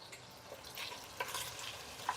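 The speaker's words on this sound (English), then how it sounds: "as this starts to sizzle, this is the sound that we want to hear" Soft sizzling in a pan, a quiet hissing crackle with a couple of brief louder pops, close and low in level.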